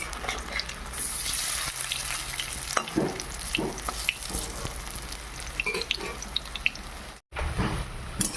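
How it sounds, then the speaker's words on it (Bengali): Banana flower fritters frying in hot oil give a continuous close sizzle and bubbling, broken by scraping and turning sounds and a brief dropout. "তেল গরম হয়ে গেছে, বড়াগুলি ভেজে নেব।"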